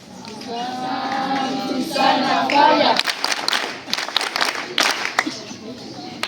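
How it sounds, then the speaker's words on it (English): An audience at a school flag-launch assembly applauds the school director, a burst of crowd clapping that follows a stretch of his amplified speech and carries on unevenly for a few seconds. "But we need to clap ourselves, please, about that."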